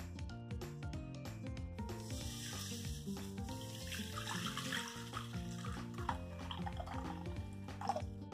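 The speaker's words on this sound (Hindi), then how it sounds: "अब हम इसमें पानी डाल देते हैं।" About a litre of water pours from a vessel into the same kadhai used for roasting semolina for halwa, a continuous splashing trickle at moderate closeness with no speech.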